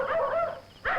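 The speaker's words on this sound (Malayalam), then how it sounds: "നായ്ക്കള് കുറിക്കുന്നു." Dogs barking in a comedy scene, two close, whining bark bursts separated by a short pause.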